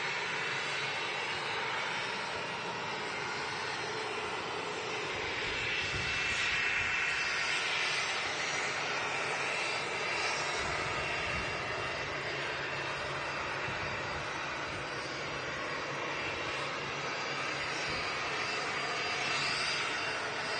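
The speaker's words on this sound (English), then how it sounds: "the Turkish A321neo just on the taxi in as well" A Turkish Airlines Airbus A321neo taxis in at Manchester Airport, its jet engines giving a steady, broad roaring whine that holds at a fairly constant level throughout.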